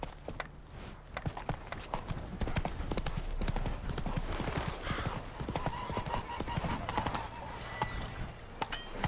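Roach, a horse in the video game The Witcher 3, gallops with quick, rhythmic hoofbeats and tack jingling against steady background ambience, with a brief voice speaking over it.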